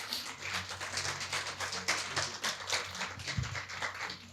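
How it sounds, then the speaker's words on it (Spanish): A church congregation applauds during a sermon, a few seconds of crowd clapping with a low hum underneath, steady and moderately quiet throughout. "Vamos a darle un aplauso a mi Señor."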